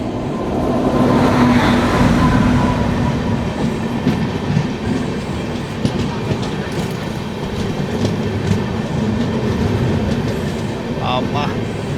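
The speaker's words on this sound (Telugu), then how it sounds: "SMBB నుంచి హౌరా వెళ్ళే దురంతో ఎక్స్ప్రెస్ అయితే వస్తుంది." Duronto Express running from SMBB to Howrah rolls past, a loud continuous rumble with rhythmic clickety-clack of wheels over rail joints, close by, with people talking over it.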